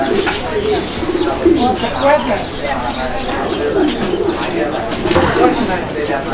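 Pigeons at a pigeon seller's farm coo over and over, deep rolling calls up close, with people talking through much of it.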